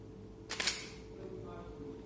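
A single sharp mechanical click of a Pentax camera shutter firing with flash at 1/180 shutter speed, brief and close, followed by a faint whine and low room hum.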